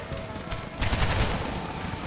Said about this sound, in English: Alright, gunfire on these guys.